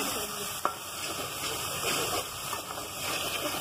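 Dal masala fries (bhunai) in a hot pan with a steady, close sizzle and hiss that runs the whole time, broken by a sharp clink or stir near the start.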